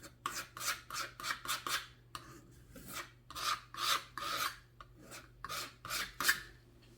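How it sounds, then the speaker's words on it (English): Palette knife scraping wet paint across a canvas to shape mountain peaks in a beginner landscape painting, heard as a series of close, rasping strokes in an uneven rhythm with brief pauses between them. "I'm just going to come in and scrape in some mountains, just like Bob Ross would, right?"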